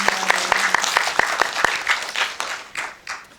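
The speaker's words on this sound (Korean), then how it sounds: "박수 부탁드리겠습니다" Audience clapping at a film screening talk with the director and cast, a round of applause with distinct individual claps that thins out and fades over a few seconds.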